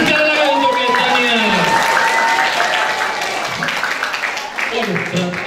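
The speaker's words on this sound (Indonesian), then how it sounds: "Tepukan sekali lagi untuk Etania." Applause from the audience at a church psalm-musicalisation event, dense clapping that lasts several seconds under loud speech and music.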